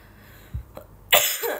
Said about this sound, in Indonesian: Masa ini live kerjaannya batuk mulu, kan bete ya